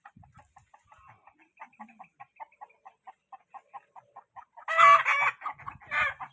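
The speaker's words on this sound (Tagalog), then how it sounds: "Ito yung Rhode Island Red." Rhode Island Red chickens give a steady run of short, soft clucks, then louder, closer squawking calls burst in near the end, with no talk.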